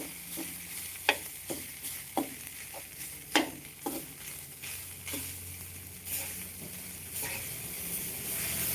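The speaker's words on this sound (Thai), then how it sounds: "ผัดเผ็ดหมู ผัดเผ็ดหมู ใช่นะ" Spicy pork stir-fries in a hot pan under a constant sizzling hiss, while a utensil scrapes and taps the pan in irregular strokes.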